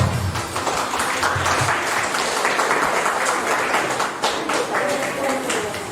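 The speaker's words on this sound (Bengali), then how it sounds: "একটু জোরে করতালি হোক" An audience at an inauguration and lamp-lighting ceremony for an art and music event breaks into loud, sustained applause, a thick continuous clatter of many hands, with a few voices faintly mixed in.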